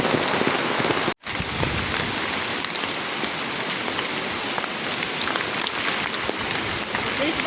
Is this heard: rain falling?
yes